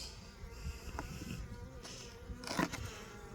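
Wasps buzz around a bee hive they have invaded, a faint, close insect drone with wingbeats rising and fading as they fly past, alongside some soft rustling and a brief clatter; no speech.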